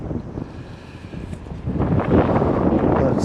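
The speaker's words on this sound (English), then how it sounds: "So of course the wind kicks up." Wind gusts buffet the microphone outdoors on a fishing trip, a low rumbling roar that swells louder partway through and stays strong to the end, close and heavy with no voices.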